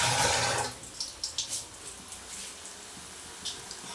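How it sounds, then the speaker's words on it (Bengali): Tap water runs over hands in a kitchen sink, a short gush at first, then softer splashing and dribbling up close with no talking. "তো আমি হাতটা ধুয়ে নেব।"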